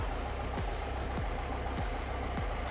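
A 100-horsepower John Deere 6320 tractor engine runs steadily at close range while driving in, a low continuous rumble with a faint regular knock repeating about every half second.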